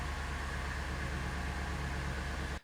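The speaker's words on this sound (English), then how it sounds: "cars that are just idling at an intersection forever and ever" Car engines idle at a street intersection, a steady low rumbling hum with faint broadband hiss, unchanging and continuous until it cuts off abruptly at the end.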